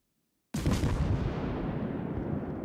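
Warship guns firing in the naval combat game World of Warships deliver a single heavy, booming blast that erupts after half a second of silence and then rumbles on, loud and sustained, through the rest of the clip.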